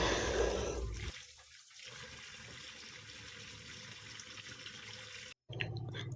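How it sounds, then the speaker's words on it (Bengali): Tap water runs while katla fish are washed, a splashing gush at first that settles into a quieter steady trickle, then cuts out briefly before resuming near the end. "আজকে আমি মাছটাকে আগে ভালো করে ধুয়ে নিলাম"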